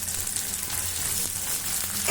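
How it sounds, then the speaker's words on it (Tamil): Sliced onions sauté in a hot pan until browned, giving a dense, continuous sizzle and crackle of frying oil that stays steady and close throughout. "வெங்காயம் நல்லா ப்ரௌன் கலர் வர அளவுக்கு வதக்கிக்கோங்க."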